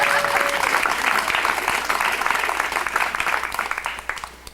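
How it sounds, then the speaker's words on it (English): Wedding guests applaud together in a dense, loud wash of clapping that holds steady, then thins and fades toward the end, with faint voices mixed in. "You can all clap now."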